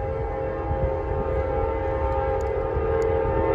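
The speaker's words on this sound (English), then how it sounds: "We have an Amtrak train coming." An Amtrak Empire Service passenger train passes at Goodman Street Yard with a steady rumbling drone and a sustained tonal horn-like hum, loud and continuous throughout.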